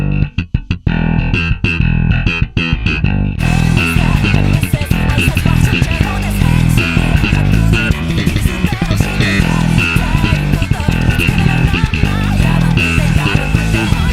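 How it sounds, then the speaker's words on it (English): Electric bass played with a slap-and-pop technique, a busy, punchy line with sharp percussive attacks, first a few isolated hits and then a dense continuous groove with a steady tone, loud and up close with no talking. "I'm gonna drop the pick and just slap it normally."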